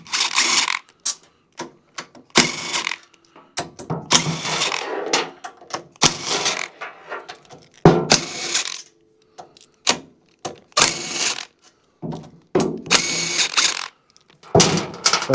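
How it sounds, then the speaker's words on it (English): Bolts come off a snowblower with a wrench, giving irregular mechanical clicks, rattles and scraping bursts separated by short gaps, moderately close. "Take all the bolts out."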